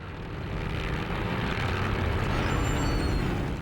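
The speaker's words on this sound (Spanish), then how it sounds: "Los aviones vuelan bajo sobre el campo, observando el progreso de la batalla." World War I airplanes flying low over a battlefield, a continuous broad propeller-engine roar that swells slightly as it passes close by, loud and steady with no voices.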